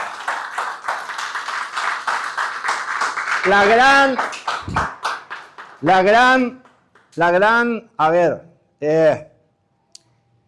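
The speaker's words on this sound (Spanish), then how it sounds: "Dale un aplauso al Señor en esta mañana" A church congregation gives a dense burst of applause to the Lord at a morning service, and the clapping then gives way to loud voices calling out in short bursts.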